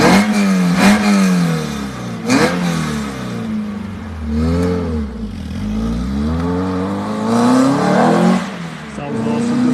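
Peugeot 205 GTI-6 hatchback with a 2-litre conversion, engine revved hard: loud, close blips and sweeping rises and falls in pitch, several throttle bursts in a row with a raspy exhaust note and a brief voice underneath.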